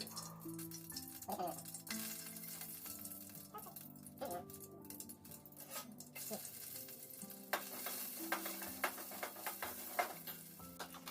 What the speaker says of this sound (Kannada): ಸ್ವಲ್ಪ ಎಣ್ಣೆ ಹಾಕಿ ಹಾಗೆ ಸಾಸಿವೆ ಕರಿಬೇವು ಈರುಳ್ಳಿ ಹಾಕ್ಬಿಟ್ಟು ಒಂದು ಸ್ವಲ್ಪ ಫ್ರೈ ಮಾಡಿ